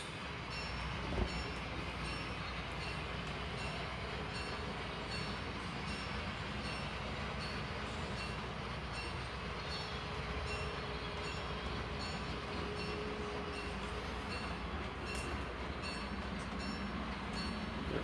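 Model railroad train running on a layout during an operating session on a rainy day, a steady continuous rolling rumble with faint clicks and a brief knock near the start, unchanging for the whole stretch.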